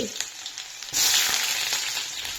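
Onions fry in hot oil in a home kitchen, starting with a steady close sizzle. Partway through, it swells into a louder, brighter spluttering hiss that keeps crackling without a break.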